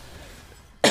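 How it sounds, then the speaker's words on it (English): A single short, loud cough bursts out abruptly right at the end after near silence, captured close on a voice-chat microphone. "I can't hear you over you coughing."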